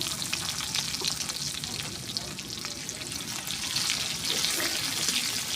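Chopped onions hit hot oil already holding fried green chillies and cumin seeds, giving a dense, even sizzle with faint stirring scrapes, close and steady, without speech.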